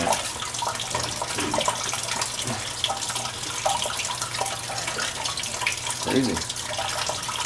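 Continuous splashing rush of water pouring into a container, with faint voices talking underneath.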